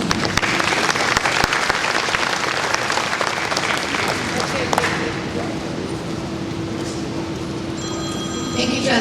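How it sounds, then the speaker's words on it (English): Guests at the Modesto Chamber of Commerce's 62nd annual Harvest Luncheon clap loudly for several seconds, then the applause thins and tapers off as a voice begins speaking and a faint tone lingers. "Give yourself a round of applause."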